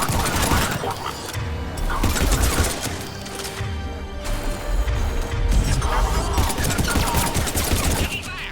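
Heavy gunfire rages in a Mass Effect 3 battle, dense overlapping bursts and crashes filling the whole stretch at a steady loud level, with brief radio voices woven in.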